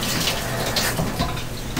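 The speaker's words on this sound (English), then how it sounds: "Run some cold water to get rid of the fishy smell." Cold tap water runs steadily in a continuous hissing splash, close and moderately loud, with no voices.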